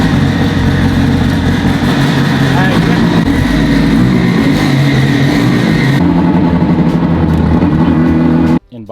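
A car engine running loud and close, rumbling and revving unevenly before cutting off abruptly near the end, with voices briefly underneath.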